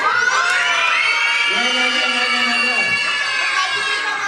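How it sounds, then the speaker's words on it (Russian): A crowd of children shouts and cheers for their team at a St. Nicholas holiday festival, a dense, continuous roar of excited young voices with a sliding whoop partway through. "Ну-ка давайте покричим за Снегурочку."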